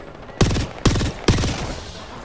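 Three quick bursts of gunfire in Apex Legends, evenly spaced about half a second apart, each a sharp rattling volley that briefly rings out.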